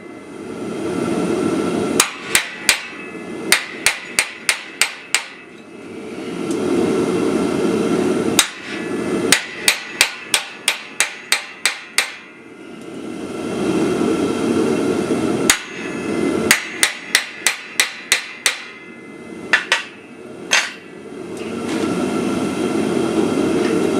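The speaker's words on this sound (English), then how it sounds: "I'll start first going almost down, and then I'll slowly raise the chisel up as I go." Wood carving of a holly leaf design, a chisel struck with a mallet along a leaf vein: sharp, close taps come in quick bursts of four to eight strikes, separated by short pauses over a steady low background hum.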